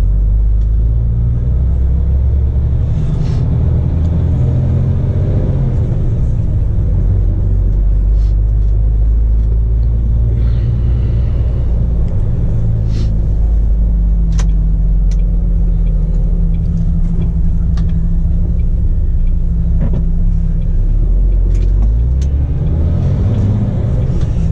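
A truck rolls along toward a depot near Cherbourg, its engine a loud, steady low rumble heard from inside the cab, with faint rattles and small knocks over the drone.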